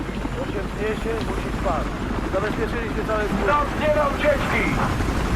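A helicopter in the video game Battlefield Hardline, a steady whirring rotor drone through the whole stretch while someone talks over it.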